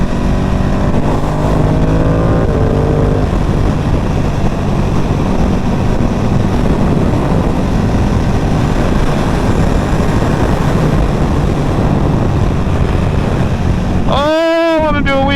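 A Ducati Panigale V2 special edition sport motorcycle being ridden, heavy wind rush and steady engine drone throughout, with a sharp rising rev near the end.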